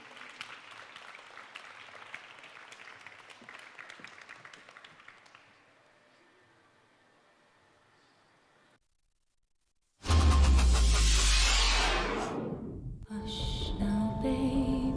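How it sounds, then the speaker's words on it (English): Audience at a Game Days show in Cracow applauds with clapping that fades out to silence, then a loud sudden burst of music-like sound takes over. "Big applause, ladies and gentlemen."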